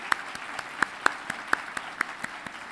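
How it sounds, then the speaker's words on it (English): Sparse, faint clapping at a veterinary medicine college commencement, with a few distinct hand claps landing in a fairly even rhythm against a quiet hall. "now use your applause and recognize the platform"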